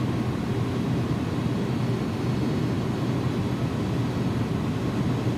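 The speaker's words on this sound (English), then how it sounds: "I have to give it so much power just to get the aircraft moving" An iniBuilds A300-600F airliner in X-Plane 12 taxiing with its engines at high power, a loud, constant low roar and rumble that holds steady throughout with no breaks.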